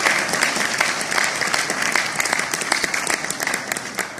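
A concert audience gives loud, sustained applause to introduce classical vocalist Ustad Shafqat Salamat Ali Khan, with many hands clapping densely and individual claps popping out near the end.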